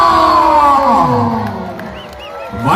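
Spectators at a tournament match with AFC Koothuparamba roar and cheer loudly. The crowd noise swells, dips briefly, then rises again near the end with scattered shouts.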